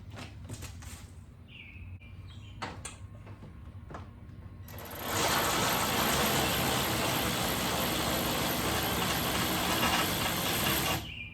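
A ratchet with a 12mm socket on an extension works at radiator bolts on a 2014 Toyota Tundra: a few quiet clicks and clunks, then a loud continuous rapid whirring burst lasting about six seconds before stopping.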